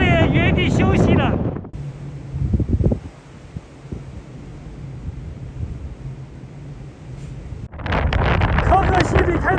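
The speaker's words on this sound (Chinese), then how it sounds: "这里的风啊比昆仑山对面的戈壁滩的风还要大" Strong wind at a high-altitude snowy mountain viewpoint in Hoh Xil, a low buffeting roar with gusts battering the microphone between stretches of talk at the start and end.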